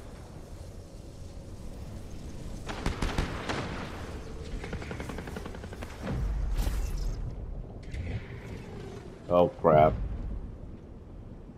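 Cannon fire in a video game, several booming shots from ships off an island: repeated rumbling blasts and a couple of sharp, louder bangs near the end, with someone talking over the mix.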